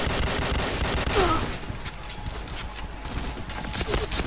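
Rapid video game gunfire crackles in a dense burst, strongest in the first second and a half, then trails into scattered shots with a voice talking over it.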